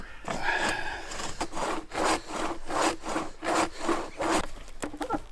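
Hand saw cutting through wood outdoors, a steady run of about ten rhythmic push-pull strokes, close and loud, with no talking over it.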